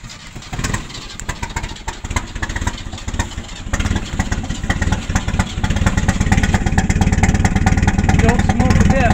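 A flooded 1970 Opel car engine cranks and catches, then settles into a steady, loud idle close by in the rain, with voices talking over the running engine.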